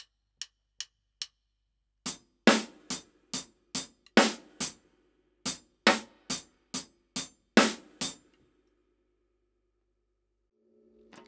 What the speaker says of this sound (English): we're just going to add in 1 extra hi-hat on beat 1 of the second bar